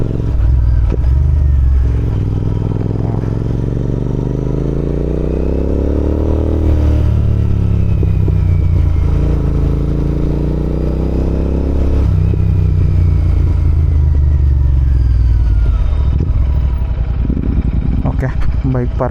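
A motorcycle engine running loud and close at Mandaragiri hill as it pulls in to park, its pitch rising and falling with throttle changes before easing near the end.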